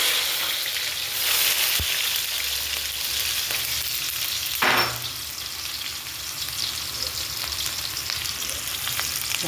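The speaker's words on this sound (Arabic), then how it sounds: "هنحط البصل" Onion dropped into hot oil gives a steady, close sizzling frying hiss that holds for the whole stretch, with a brief louder burst midway.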